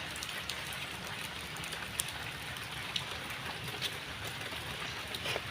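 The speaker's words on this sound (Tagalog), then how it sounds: "At umuulan kasi." Continuous rain patters down evenly, a broad steady hiss with occasional sharper drop ticks, and no talking.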